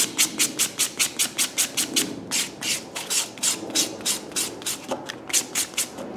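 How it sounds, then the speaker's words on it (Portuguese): A block nail file is rubbed over gel nails in quick, even back-and-forth strokes, a close and steady rhythmic scratchy rasp of roughly two dozen passes, with no talking. "só vamos agora dar uma finalização com a lixa bloco"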